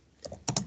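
Typing on a computer keyboard gives a few quick, close clicks, two of them sharper, in a brief burst with no talking over it.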